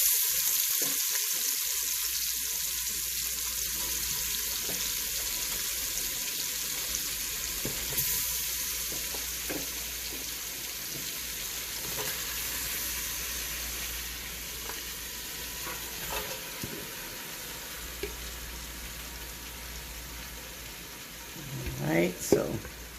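Oxtails sizzle and fry steadily in a little oil inside a deep bucket-shaped soup pot, a continuous close crackle with occasional stirring and clinks, rising briefly near the end.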